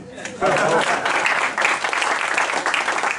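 A crowd at a cycling criterium race in Montrabe bursts into sustained applause, loud and dense, while a voice speaks over it through much of the clapping.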